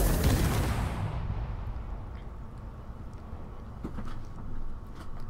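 An artillery cannon in the game Space Engineers fires at a block of armor: one heavy boom at the start that decays into a long, low rumble, followed by faint scattered impacts.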